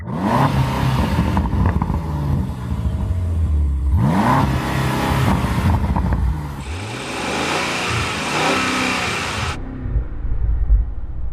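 A Mercedes-AMG G63 or Land Rover Defender OCTA SUV engine starts up and revs hard in repeated loud surges, close by, with rising and falling roars and a deep rumbling idle between bursts.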